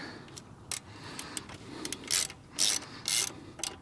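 Ratchet clicking as a bolt is driven in until seated during a 600-hour service on a Kubota MX Series tractor; bursts of rapid pawl clicks come close and loud, with short pauses between strokes.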